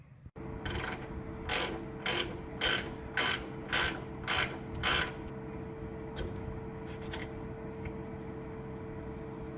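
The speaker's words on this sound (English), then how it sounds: "let's get the bottom bolts off" A ratchet wrench takes out the bottom bolts during a coil spring change on a 1966 full-size Chevy. About seven quick, close bursts of clicking come in a steady rhythm, followed by a few fainter clicks and a quiet mechanical hum.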